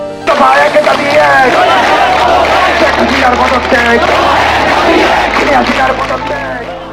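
A large protest crowd in Dhaka chants slogans during the 2024 quota reform movement, a loud dense mass of voices shouting in unison and sustained throughout.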